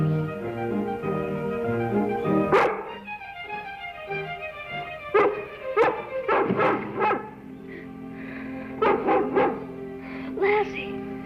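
Lassie the dog gives several sharp yips and barks over orchestral music, scattered in short bursts and clusters across the scene.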